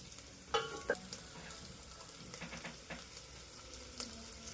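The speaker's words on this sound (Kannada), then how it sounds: "ಹಾಕಿ ಗೋಲ್ಡನ್ ಬ್ರೌನ್ ಬರೋ ತನಕ ಹುರ್ಕೋಬೇಕು." Ginger fries in a pan for spicy pongal, giving a soft, steady sizzle broken by a few sharper pops and clinks of stirring, fairly faint and close.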